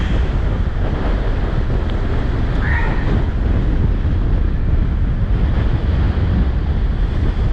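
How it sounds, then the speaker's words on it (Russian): A violent storm on the Crimean coast: fierce wind buffets the microphone while huge waves crash in a loud, continuous roar, close and unbroken. "Посмотрите на эти волны."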